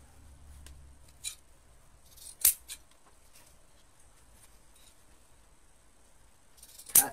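Scissors snip ribbon tails while a bow is being made, giving a few faint, separate crisp cuts with long quiet gaps between them in a hushed room.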